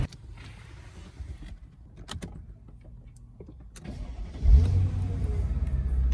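A 2001 Mercedes-Benz SL500 with very low mileage sits quiet at first with a few clicks and a whirring motor, then its engine cranks and catches with a deep thump and settles into a steady, close idle.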